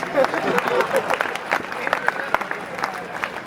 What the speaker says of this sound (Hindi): इस पंक्ति पे तो 3 लीटर तालियां बजाओ